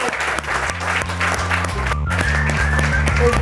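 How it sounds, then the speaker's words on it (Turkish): A studio audience applauds contestants at the close of a cooking competition show, steady loud clapping throughout with music playing underneath and a brief pause near the middle. "Bütün gelinlerimizi alkışlayalım lütfen"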